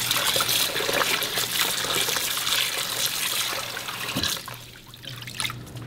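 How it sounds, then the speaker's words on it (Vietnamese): Running water splashes and trickles continuously at close range as a salmon head is rinsed, easing off and turning to drips and gurgles toward the end. "Rồi các bạn rửa lại nhiều lần với nước cho thật là sạch."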